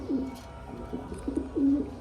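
Green-eyed pigeons in a loft coo in low, rolling bursts, several calls repeating close by, with faint bird chatter in the background.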